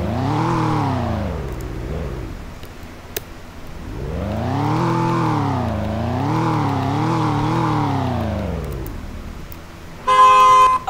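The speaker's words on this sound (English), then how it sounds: "Alright, that wasn't a Roblox. That was the real cars." Real cars passing outside on a Baltimore, Maryland street: engines swell and fade in long passes, one after another, fairly close and loud, ending with a short burst of honking.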